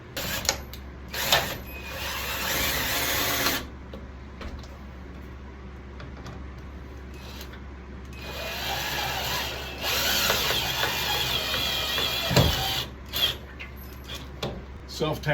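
Self-tapping screws driven into a wooden board with a power drill to fix brackets in a carpentry shop, several separate bursts of whirring drilling with pauses between them, fairly close.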